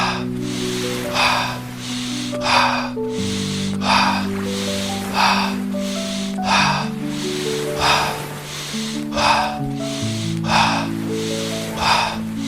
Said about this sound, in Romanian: Încă 5 respirații.